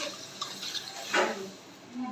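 Water poured into a frying pan of fried onions and spring onion leaves gives a short rushing splash and hiss that rises midway and fades against a faint background.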